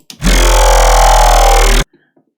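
A gritty, buzzing Sytrus formant growl synth in FL Studio, here without operator 3's modulation, plays as one sustained, loud bass note lasting under two seconds before cutting off abruptly to silence.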